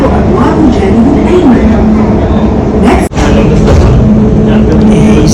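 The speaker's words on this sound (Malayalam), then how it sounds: "അപ്പം നമ്മളിങ്ങനെ മെട്രോയിൽ കയറ്റി" Loud, steady rumble of an underground Riyadh Metro train running through a tunnel, with a voice talking over the roar and a brief dip in the noise midway.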